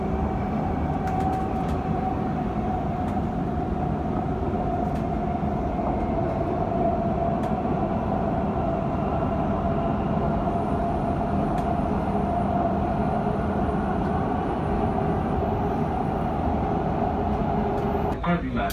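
A metro train runs between UAE Exchange, Ibn Battuta and Centrepoint stations, toward Centrepoint, a constant near rumble and hum heard from inside the car for the whole span, with an onboard announcement voice faintly present over it.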